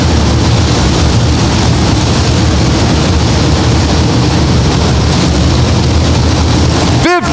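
Limited modified race cars roar around a dirt track during a Friday night A main invitational feature, a loud, continuous wall of engine noise with a wind-buffeted rumble and no break until a sharp cutoff at the end.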